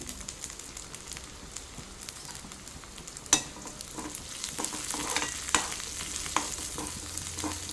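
Black peppercorns roast in a pan with cumin and softened onion, a steady close sizzle broken by a few sharp scraping and stirring knocks.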